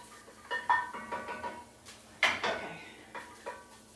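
Garlic and onions sautéing in a pot for a Cajun shrimp soup: a quiet, faint sizzle beneath a run of spoon clinks and scrapes against the pot as it is stirred, with no voices.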